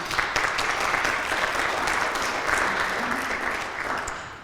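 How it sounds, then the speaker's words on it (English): Audience applause at a city club luncheon talk, a full, even round of clapping from a room of people that holds steady for several seconds and eases off at the end. "Can we give them all a round of applause?"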